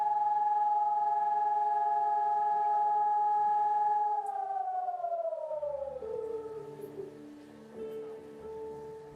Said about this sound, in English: air raid sirens in Israel ring out at 10 a.m.